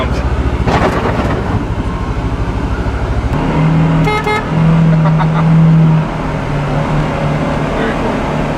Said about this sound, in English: you need a louder horn for sure